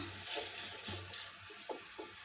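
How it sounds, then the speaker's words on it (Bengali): A small amount of water is poured into a pan of drumstick stems with mustard paste, a soft running trickle with faint sizzling, close and fairly quiet. "ওটা একটু পানি দিয়ে নিই"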